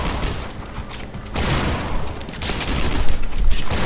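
Rapid gunfire rattles in dense bursts during video game play, loud and continuous shots crackling across the whole stretch with no pause.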